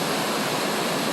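A waterfall on a portage trail between Black River and Black Lake, heard as a loud, steady, close rushing roar of falling water with no voices.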